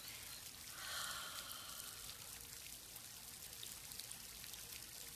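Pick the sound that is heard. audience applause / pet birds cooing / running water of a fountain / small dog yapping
running water of a fountain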